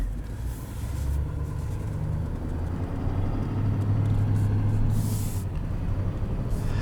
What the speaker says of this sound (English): I think the diesel fits the character of this truck so well because it sounds like a grizzly bear